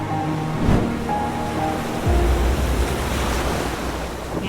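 Arabian Sea waves break and surge against stones beside a coastal highway during monsoon, a continuous loud roar with wind buffeting the microphone.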